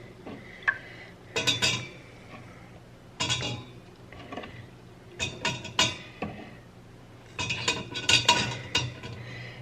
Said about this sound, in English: So we're going to go ahead and place all of these eggs in